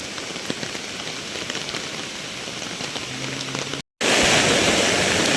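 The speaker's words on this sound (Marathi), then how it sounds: "हे बघा किती फोर्सने पाणी चाललंय" Floodwater of a swollen village river surging over a submerged bridge, a dense, steady roar of rushing water heard close and loud throughout, cut by a momentary dropout before returning even stronger.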